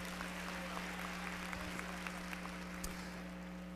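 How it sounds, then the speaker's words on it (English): Church audience applause on a missions night, a quiet, distant patter of clapping over a steady low hum. "Let's give them another rousing applause."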